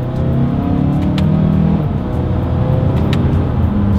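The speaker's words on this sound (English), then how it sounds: "So on green, we are gonna test out the paddle shifters." A 2022 Mazda CX-5 compact SUV pulls away and accelerates with paddle-shifted gear changes, its engine a loud, steady hum that climbs in pitch, stalls briefly at each shift, then climbs again.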